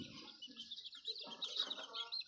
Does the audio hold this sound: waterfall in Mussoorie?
no